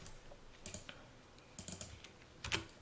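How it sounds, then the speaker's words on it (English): Welcome typed on a computer keyboard during sign design for a Torchmate CNC setup: a few quick, faint clusters of key clicks spaced over a couple of seconds, with no talk. "I'm going to type welcome."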